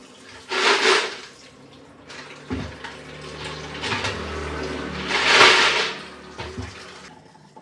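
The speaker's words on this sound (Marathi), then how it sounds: "आता मी ह्या शिप्या धुवून घेते" Shellfish being rinsed under running water in a kitchen, with two louder bursts of splashing and pouring over a low, steady trickle, no speech.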